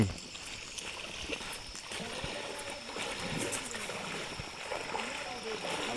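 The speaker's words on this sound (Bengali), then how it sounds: "চলতি পথেই একটা ঝর্ণা দেখা পেয়ে গেলাম" A small waterfall beside a mountain trail runs as a steady, broad rush of water, close and continuous throughout, with faint scattered background sounds and no talking.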